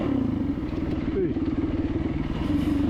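An enduro motorcycle rides single track at Jawbone, its engine droning loud and close with a rough, continuous note that shifts slightly in pitch as the rider passes through poppies.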